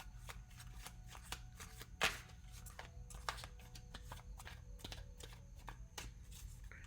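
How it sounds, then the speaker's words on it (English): Tarot cards being shuffled in repeated quick riffling bursts, close and fairly quiet, with one louder snap near the middle; no talking. "I'm gonna shuffle these cards"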